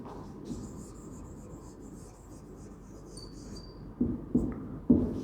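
A teacher writes on a classroom board during a science lecture, with a steady faint scratching texture through most of the clip and a few louder taps near the end, no speech.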